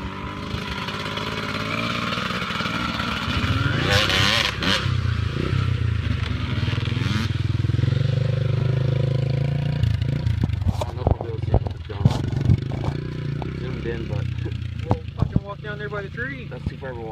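Engine of a Honda ATC 250SX three-wheeler all-terrain vehicle, a steady mid-distance drone that rises and falls with throttle, with scrapes and clatter toward the end.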